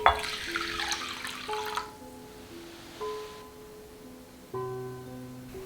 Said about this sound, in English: Drain the rice, then add water.